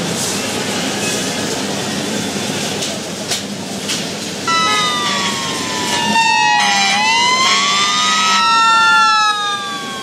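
Fire engine siren in the Emergency 4 Los Angeles mod, wailing and sweeping up and down over a loud background rumble, with overlapping siren tones building toward the end.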